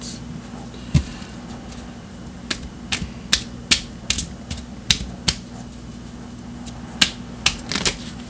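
Tarot cards being shuffled and handled at a reading table, heard as a string of sharp, close snaps and flicks in irregular bursts over a low steady hum, with no talking.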